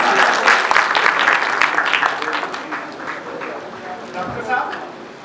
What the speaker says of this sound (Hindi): तुसी इस्तकबाल करो जी तालियां नाल मोहम्मद असलम शाही साहब